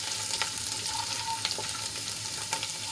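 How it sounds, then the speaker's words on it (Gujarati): Chopped garlic sautés in hot oil for a methi papad curry, a steady soft sizzle with faint scattered crackles and occasional stirring clinks, close and even throughout, no voices. "ચારથી પાંચ કળી મેં લસણની કટકી કરી લીધી છે એ આપણે એડ કરી લઈશું અને લાલ થાય ત્યાં સુધી આપણે એને સાંતળી લઈશું"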